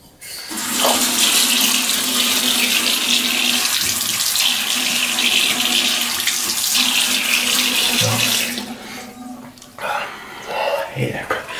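Water runs steadily from a tap at home into a sink for about eight seconds, a loud continuous rush, then stops, followed by softer handling sounds and brief voices.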